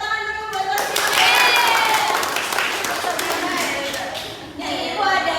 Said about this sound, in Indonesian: Oke, tepuk tangan dulu buat Rosi.